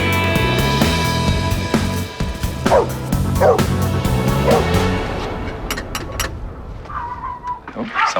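A dog at a vet clinic barks and yips in several short bursts over steady background music and room noise, with a soft whimper toward the end.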